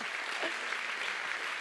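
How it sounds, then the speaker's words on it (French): An audience in a theater claps in a dense, even burst of applause, steady throughout the short stretch. "Oui, applaudissez un peu."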